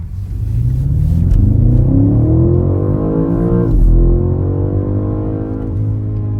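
A BMW M5 Touring, G99 generation, accelerating hard on public roads, its engine note climbing steadily in pitch, dipping briefly at a gear change, then pulling again, loud and close from inside the car, without talk.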